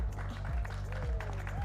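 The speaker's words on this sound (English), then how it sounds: "keep that applause going for our fantastic referees for this match" A crowd at a pickleball championship court in Brisbane claps steadily for the referees, a soft, fairly distant patter of applause over a low humming background.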